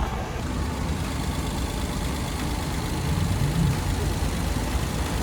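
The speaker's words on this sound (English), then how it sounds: "Yep, there's an engine." A steady low engine rumble idles continuously, unchanging and fairly loud throughout, with no voices.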